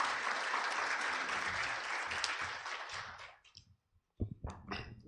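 Audience clapping at a tax breakfast event, a roomful of hands applauding steadily before thinning out and stopping, then a few brief, isolated sounds after a short silence.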